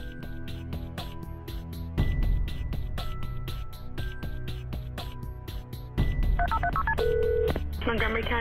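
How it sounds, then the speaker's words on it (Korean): Phone keypad tones sound one after another over a steady hum while a 911 emergency call is being placed, followed by a quick burst of rapid dialing tones near the end. "911로 신고 전화가 걸려왔습니다."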